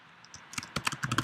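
Fast typing on a computer keyboard, a quick close run of crisp key clicks that speeds up after a couple of soft early taps, with no voice.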